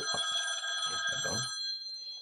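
A telephone rings on a theatre's hotline, a steady electronic ringing tone held for about a second and a half over a few low knocks, then fading out into near silence.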